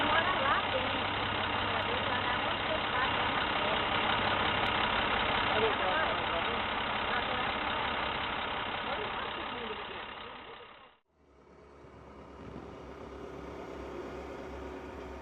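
A Volvo tractor truck hauling two trailers of large logs off a ferry onto a dirt road runs its engine in a steady rumbling drone that is close and fairly loud, then drops away sharply before a quieter, lower engine hum continues.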